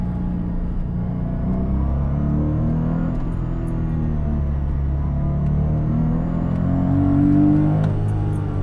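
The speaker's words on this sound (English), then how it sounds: "But hear that glorious flat six." A Porsche 718 Cayman flat-six engine idles and revs steadily with a deep, continuous rumble, loud and close, swelling slightly toward the end.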